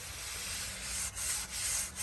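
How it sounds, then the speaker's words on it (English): Someone sands a wooden trellis along the grain by hand, making a close, steady abrasive rasp. The strokes are rhythmic and run back and forth, broken by brief pauses between passes. "when you're sanding a wood grain, you want to go with the grain"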